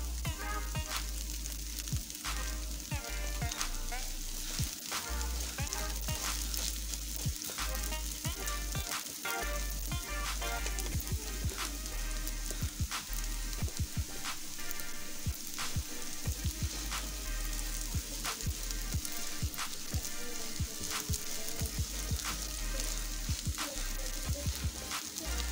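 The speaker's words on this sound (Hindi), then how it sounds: "ये भूनते हुए 10 मिनट हो गए इसे। अब ये इसमें हम देसी घी ऐड कर रहे हैं।" Semolina roasts in desi ghee in a pan for Pakistani makhandi halwa, giving a dense, continuous close-up sizzle and crackle that stays steady throughout, with no voices.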